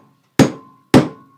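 A hammer strikes a pin punch to drive a pin out of a Transformers toy during disassembly, two sharp metallic hits about half a second apart, close and loud, with quick decays into silence.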